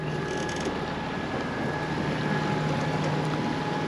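A Catalina 42 sailboat motors under engine power on a windless sea, a steady low hum with faint creaks and mechanical rattles throughout, no voices.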